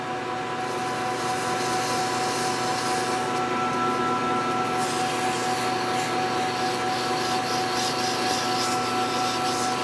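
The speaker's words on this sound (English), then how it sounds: "I just need to clean up this sharp edge here. A little sandpaper should work" Sandpaper rubs steadily along a sharp edge in a workshop, a continuous close, loud scratchy hiss that keeps an even texture throughout, with no talk.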